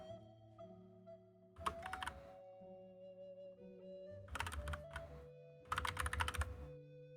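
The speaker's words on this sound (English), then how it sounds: "This is now a typing stream, apparently." Bursts of computer keyboard typing during a game stream, close rapid key clatter in three separate flurries over steady background music.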